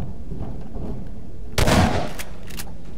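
A short burst of loud gunfire from the video game Garry's Mod, a dense crackling volley lasting about half a second with a couple of quieter shots after it, over a low steady game hum.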